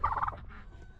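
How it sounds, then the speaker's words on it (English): A short burst of rooster calling, a brief loud squawk fading into faint clucking. "this little guy is definitely a rooster"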